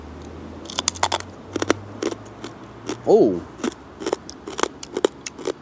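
Someone bites into crunchy, salted pork crackling at a roast dinner, making a rapid run of sharp crisp crunches close to the mouth, with a short vocal exclamation in the middle.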